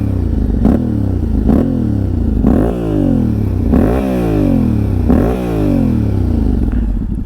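A 2024 Yamaha Ténéré 700 A2 motorcycle engine idling in neutral up close, a loud steady low rumble with periodic rises and falls like gentle blips, no talking over it.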